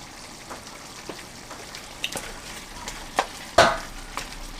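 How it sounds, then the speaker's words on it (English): Taco ground beef seasoned with McCormick mix and lime juice bubbles at a rolling simmer in a pan, giving a low steady sizzle dotted with scattered soft pops and one sharper burst near the end. "It's at a really rolling simmer right now."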